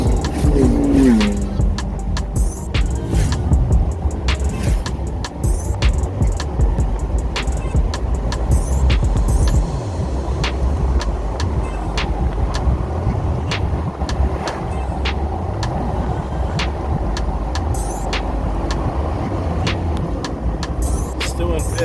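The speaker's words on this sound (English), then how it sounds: "Taking it slow, there's a lot of curves on this, but I am in fifth gear once I get out of this." A vehicle with 488 gears, 35-inch tires and a six-speed gearbox drives along a curvy road, its engine droning steadily with road and wind noise underneath. Someone talks over the engine.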